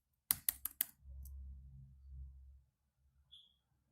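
Typing an equation on a computer keyboard: four crisp, quick keystrokes close together, followed by a low muffled rumble and a brief faint tone, fairly quiet overall.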